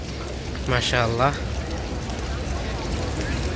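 Rain falling at Masjid an-Nabawi in Medina, a continuous wash of rainfall under a brief spoken phrase.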